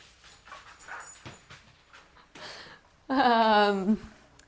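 A dog whimpers and yips while playing with its ball in a garage gym, soft whines and pants under intermittent talk, ending with a loud, drawn-out high whine near the microphone.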